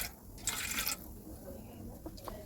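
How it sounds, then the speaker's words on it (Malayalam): Vinegar poured into hot oil left from frying beef pickle spices flares into a short, bright hiss and sizzle for about half a second, then fades to quiet crackling. "ഞാൻ വിനാഗിരി ഈ എണ്ണേൻ്റെ ഇതിൽ തന്നെ ഒഴിക്കാം."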